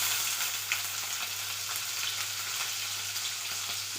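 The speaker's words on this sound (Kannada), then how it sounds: "ಒಂದೇ ಒಂದು ಹಸಿಮೆಣಸಿನ್ಕಾಯಿ ಹೆಚ್ಚಿಟ್ಕೊಂಡೀನಿ, ಅದನ್ನು ಹಾಕ್ತೀನಿ." Chopped green chilli hits hot oil with urad dal in a pan, giving a steady close sizzle and crackle of frying with light stirring, no voices.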